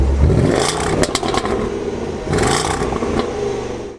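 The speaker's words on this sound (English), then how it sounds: "this allows you to go from regular exhaust noise" A Land Rover engine idles and revs with a low exhaust rumble in regular exhaust mode, valve flaps closed, rising in two surges between stretches of quieter running.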